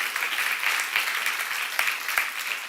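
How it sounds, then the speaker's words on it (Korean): A congregation at a church seminar breaks into applause, giving steady, even clapping that carries at moderate volume from a room full of people, with no speech over it. "박수"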